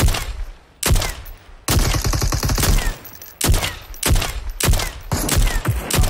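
Rapid bursts of gunfire from the battle-royale video game Super People, loud and close, with repeated volleys and short pauses between them across the whole stretch.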